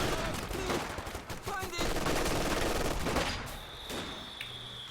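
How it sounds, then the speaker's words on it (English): A rifle grenade fired and exploding in a competitive military video game match, heard within a dense stretch of gunfire and blasts that fades toward the end while a high electronic tone appears. "Another rifle grenade from Sage."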